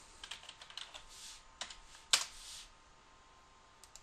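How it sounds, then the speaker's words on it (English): Password being typed on a computer keyboard: quiet, close, irregular key clicks with one sharper tap in the middle, then a pause and a final couple of keystrokes. "I'm going to type my password"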